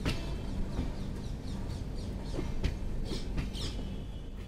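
Kolkata-Mathura-Gwalior weekly express train slowing on approach to Mathura Junction, a steady rumble with rhythmic clickety-clack wheel beats and faint metallic squeals, heard from inside the carriage without talk.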